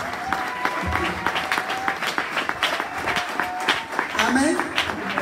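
A church congregation applauds and acclaims its preacher with steady, dense clapping and scattered shouts. A voice speaks over the clapping throughout.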